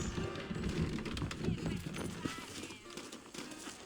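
Horse hooves clip-clop at a trot in the video game Red Dead Redemption, a quick uneven run of soft thuds underneath people talking.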